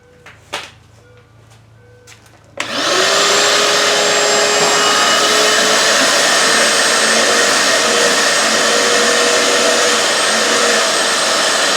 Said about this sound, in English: I'll see if I can shove the wet and dry in there and suck that clear.